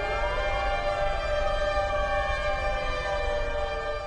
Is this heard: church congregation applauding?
no